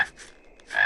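A frog in an animated Tamil series croaks loudly and close, a short raspy croak followed by a brief pause and then a second, longer croak.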